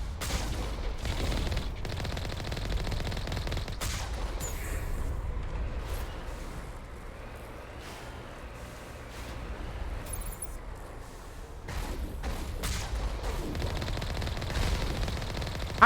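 Enemy gunfire in Mass Effect Legendary Edition, rapid automatic bursts crackling near and loud, easing off midway before heavy firing resumes.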